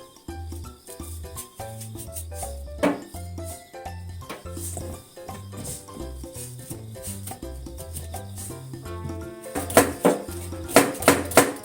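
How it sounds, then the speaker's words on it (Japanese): A spoon scrapes and clinks as it scoops seeds and pith out of a halved bitter gourd, giving irregular close metallic taps and scrapes that grow louder and busier toward the end, with no talk. "スプーンでね、種と綿を取り出しますね"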